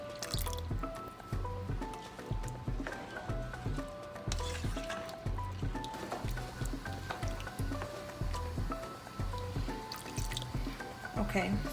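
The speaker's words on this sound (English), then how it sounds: "Okay, so that's 3 cups of chicken stock that I added." Chicken stock poured into a pot for Jamaican-style rice and peas, trickling and dripping softly and steadily while a person talks over it.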